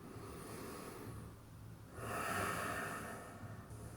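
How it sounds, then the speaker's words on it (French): A deep, full breath taken during a bodyweight mobility workout on all fours, a soft airy inhale and exhale rising in the middle and easing off, close and fairly quiet with no talking. "Une respiration complète,"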